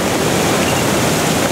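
A waterfall roars loud and close as a dense, unbroken rush of falling water with no other sounds.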